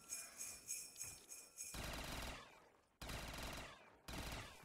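Full-auto gun firing in Black Ops 3 Zombies: sustained rapid automatic bursts, loud and close, stopping briefly and restarting twice, with no talk over the shots.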